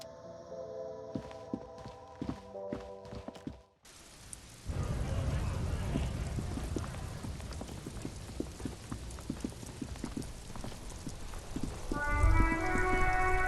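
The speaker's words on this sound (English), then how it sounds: "All around you, rain falls on the great city of Revachol." Rain falling on a city in the video game Disco Elysium, a steady hiss of rainfall with dripping and splashing textures. It starts abruptly after a stretch of game music and continues under faint tonal music.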